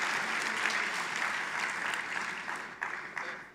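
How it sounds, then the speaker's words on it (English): A conference audience claps together, a dense, even round of applause from many people that starts to thin out and break up toward the end. "Let's give Mr. Manuel a big hand of applause"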